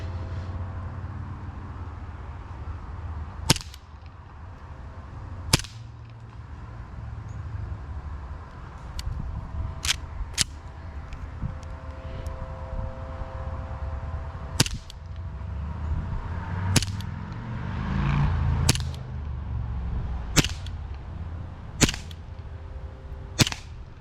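A John Wayne 1911A1 WWII distressed-model CO2 BB pistol fires about a dozen sharp, cracking shots. They come at irregular intervals, some close together, over quiet outdoor background noise.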